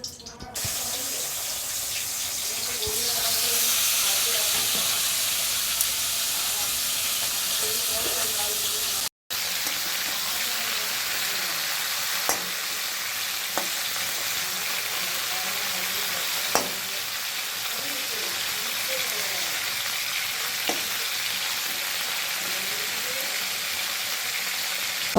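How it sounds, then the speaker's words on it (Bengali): Barramundi (bhetki) fish bones fry in hot oil in a wok, a loud continuous sizzle that swells after a few seconds and holds steady, with occasional sharp clicks of stirring, briefly cut off once midway. "এবার ওই ভেটকি মাছের কাঁটা ভেজে নেব"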